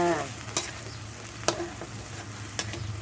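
Pounded garlic and chili stir-fry in a hot pan for fried rice noodles, giving a steady low sizzle broken by three sharp scrapes of a spatula against the pan at roughly even intervals.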